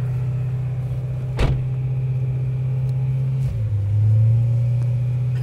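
A new car's engine, already warm, runs with its exhaust valves open: a steady deep, loud idle rumble, a sharp blip near the start, then a smoother rise in revs toward the end.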